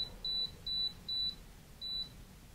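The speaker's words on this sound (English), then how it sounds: "depending how many igniters you have is what that final series of beeps is going to sound like" Four evenly spaced electronic beeps from a model rocket altimeter in pad mode, sounding its installed igniter count: short high-pitched tones, close and clear over a faint background hiss, with no talking.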